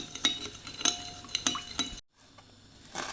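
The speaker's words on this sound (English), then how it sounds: "Mix it well." Spoon clinking and scraping against a bowl while stirring an olive oil, salt and black pepper dressing, in quick rhythmic strokes, close and clear, with a brief pause before stirring resumes.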